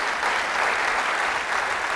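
A church congregation gives a short, dense round of applause during a Passover sermon. The clapping stays steady and even for its full length, with no talk over it.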